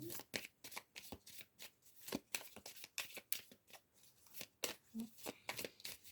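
Tarot cards being shuffled by hand, close and soft, a rapid series of crisp riffling and sliding bursts in an uneven rhythm.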